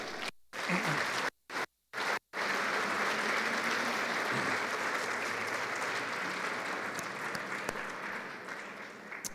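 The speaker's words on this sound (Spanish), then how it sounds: "Dale un aplauso al Señor." A congregation applauds steadily for several seconds, a dense wash of clapping that slowly fades, preceded by a few brief pauses.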